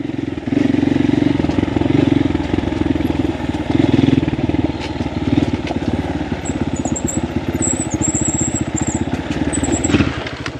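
A motorcycle rides along a damaged, narrow mountain road between Kayapa and Imugan, its mid-pitched engine droning steadily and loud throughout, with clattering from the rough surface and no talk.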